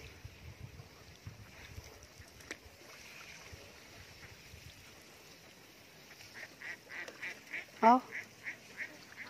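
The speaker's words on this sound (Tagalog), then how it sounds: "Yan yung mga itik." Ducks at a rice paddy edge beside snail-gathering ground give a run of quacks and honks in the later seconds, moderately near and rising to a loud burst, over faint outdoor ambience with a brief spoken exclamation.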